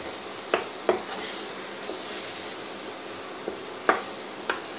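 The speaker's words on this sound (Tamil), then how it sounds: "அது ஒரு ஃபியூ மினிட்ஸ் நல்லா வதங்கி கலர் மாதிரி கெட்டியாக ஆகிற வரைக்கும் கொஞ்சம் நல்லா வதக்கலாம்" Amla gooseberries for pickle sauté in a pan with a steady, close sizzle, broken by a few sharp clinks and scrapes from stirring.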